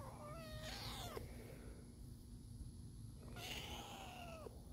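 A young male cat meows twice, clear and close, with long drawn-out cries separated by a short pause in a quiet indoor room.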